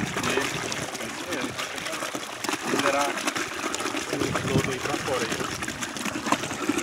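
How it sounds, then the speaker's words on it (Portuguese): Spring water trickles steadily down into a hole in a muddy rural yard, a continuous wet dribbling over background noise, with people talking throughout. "Como aqui uma nascente, sempre tá escorrendo água aqui"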